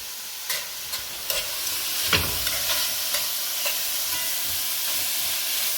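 Soy sauce and five spice sizzle in a pan for spicy vegetable fried rice, a steady hiss broken by a few scattered stirring clinks, with one sharper spike near the middle.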